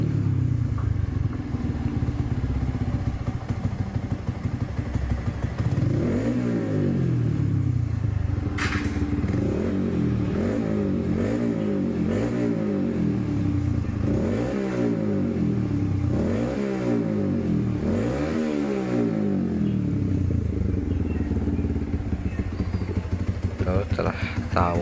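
A fuel-injected motorcycle with an automatic ISC idle valve, set up with a Juken 5 ECU, runs loud and close, idling and then revving repeatedly in rising and falling bursts over a rough mechanical clatter.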